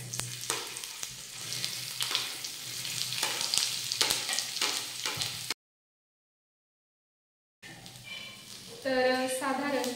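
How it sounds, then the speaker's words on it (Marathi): Sliced onions frying and being stirred in hot oil in a pan for matar paneer, a steady crackling sizzle with scraping stirs, cut by a few seconds of silence before a louder burst of sizzling under a voice. "तर आता सगळ्यात आधी आपण कांदा भाजून घेऊयात।"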